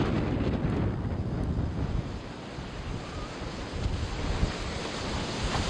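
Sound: wind

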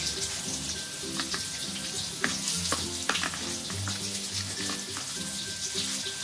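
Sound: eggplant coated in flour frying in oil

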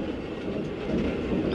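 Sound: tram crossing a railway line in the video game OMSI 2

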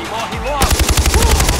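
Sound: gunfire in the video game Far Cry 4

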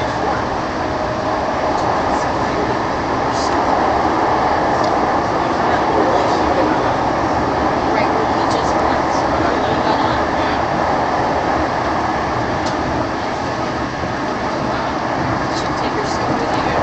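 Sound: TRAX red line light rail train riding

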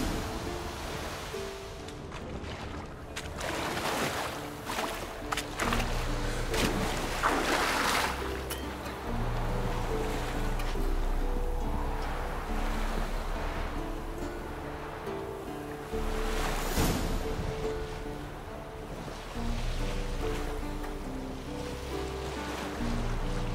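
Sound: boat on water, from video game The Witcher 3

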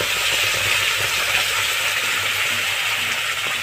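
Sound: cumin and bay leaf tempering sizzling in hot oil

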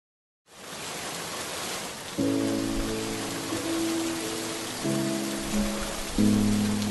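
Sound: rain falling

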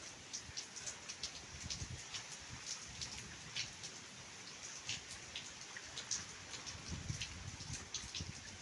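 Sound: rain

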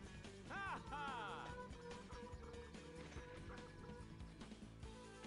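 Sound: rooster clucking in video game Three Heroes

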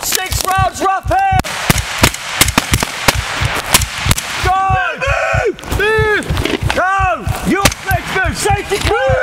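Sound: rifle gunfire during British Army fire-team attack training

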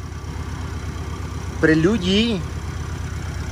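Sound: 2020 Toyota Supra engine idling, BMW-built engine

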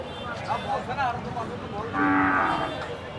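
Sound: cow mooing at a cattle market

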